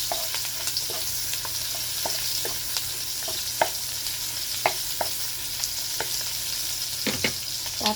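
Pork fat frying in hot oil in a pan, a steady close crackling sizzle broken by scattered sharp pops and spatters, with no talking.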